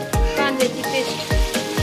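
Onion paste fries in a pan for pav bhaji, sizzling and spattering with a few sharp thumps or clinks of a utensil against the pan at close range.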